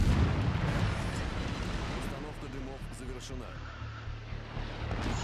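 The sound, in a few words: destroyer Benham launching torpedoes in video game World of Warships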